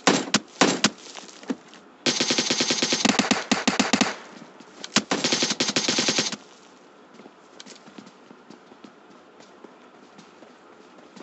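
Gunfire in the mobile battle royale game PUBG Mobile, with loud bursts of rapid automatic shots in several clusters, then scattered fainter single shots and shuffling.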